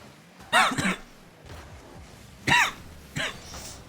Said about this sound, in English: Oh, I'm coughing.